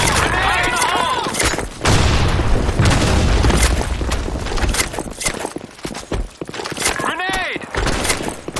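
A grenade goes off in a desert-map shooter video game, one loud boom amid rattling gunfire and battle noise, with players' voices calling out over the chaos.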